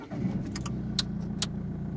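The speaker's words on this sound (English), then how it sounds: "Then to put on full beam, you would pull the whole lever towards yourself until it clicks." Two crisp plastic clicks from a car's headlight stalk being turned to dipped beam, a moment apart, sound over the low hum of an idling engine inside the cabin.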